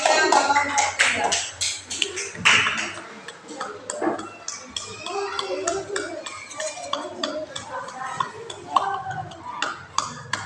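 A classroom of students gives group 2 a round of scattered hand claps, uneven and sparse rather than a roaring ovation, with talking mixed in among the claps.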